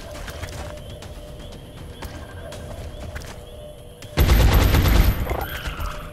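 Game audio from XCOM: Enemy Within plays steadily, then a loud, sharp burst of gunfire erupts near the end and lasts about a second before fading into echoing noise.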